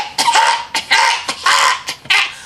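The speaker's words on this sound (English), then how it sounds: "this lady was in my line coughing, but not covering her mouth" A woman standing in a shop checkout line coughs openly without covering her mouth, giving about four close, harsh bursts in quick succession with brief gaps between them.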